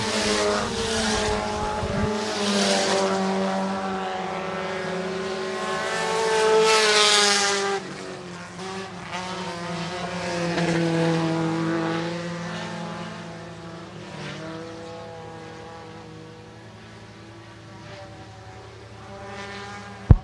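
Vintage stock cars racing on the white flag lap at Shelby County Speedway, loud roaring engines passing close with rising and falling pitch as they sweep by, then fading into a distant drone.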